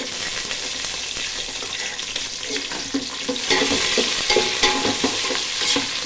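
Green chilies and garlic dropped into hot oil for rava kichadi, a dense close sizzle with bursts of spattering and spoon scraping, growing louder partway through.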